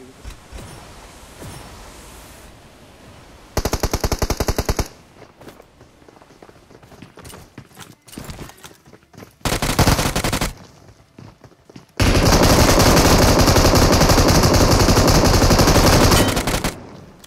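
Bursts of UMP submachine gun fire in a video game, some from a suppressed UMP and some from one with a compensator; rapid automatic volleys of varying length separated by quieter stretches with faint footsteps, ending in a long sustained burst.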